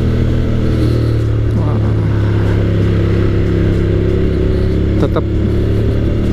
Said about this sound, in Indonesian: coba kita jangan naik gigi ya, di gigi 1 terus. Sampai RPM berapa dia berubah.